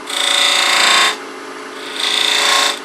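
A spindle gouge cuts a V into spinning wood on a lathe in two loud, close, hissing scrapes, each about a second long, over the steady hum of the lathe.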